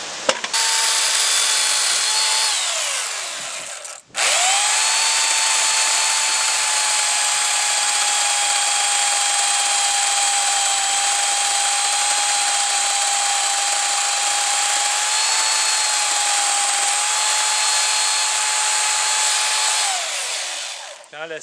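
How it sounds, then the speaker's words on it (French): A power saw whines at steady high pitch cutting a wooden timber brace, spinning up, cutting in a long sustained run after a brief pause, then winding down; the blade bouncing shows it needs sharpening. "Quand la scie sautille comme ça veut dire qu'elle commence à avoir besoin d'être affûtée"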